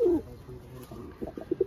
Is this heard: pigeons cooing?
yes